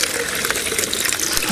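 Water running steadily from a tap, a short rushing gush at close range, heard alone without talk, in a pigeon-racing loft setting.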